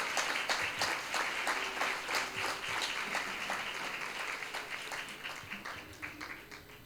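Mild audience applause at a spiritual talk and Q&A session, a steady patter of many hands clapping at moderate distance, fairly soft and even throughout.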